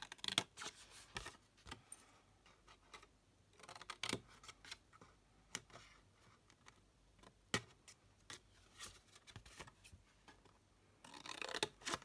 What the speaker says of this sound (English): Basically going to cut the whole of this corner off.